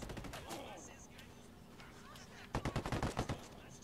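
Rapid automatic gunfire in the tactical shooter Ghost Recon Wildlands, a dense burst of about ten close, loud shots near the end after quieter scattered fire and faint player chatter.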